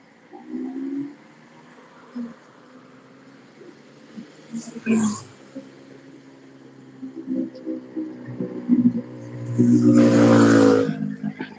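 Trucks rumble past on the Jalan Lintas Timur highway near Palembang, South Sumatra, with a louder vehicle sweeping close by near the end while someone talks over the roadside traffic.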